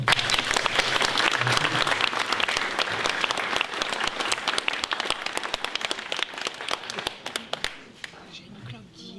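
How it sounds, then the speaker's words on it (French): An audience applauds after a talk at a paranormal-themed evening event, a dense burst of many hands clapping that gradually thins into scattered claps and fades out. "Je pense qu'on peut applaudir."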